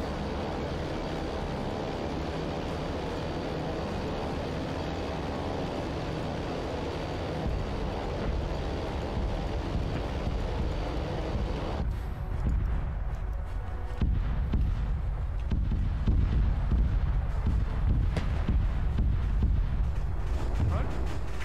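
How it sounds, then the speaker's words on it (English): In Arma 3, a World War 2 bomber carpet-bombs the ground, and a heavy rolling rumble of explosions builds up after a steady engine-like drone, with voices talking over it. "we're going to do a big carpet bomb"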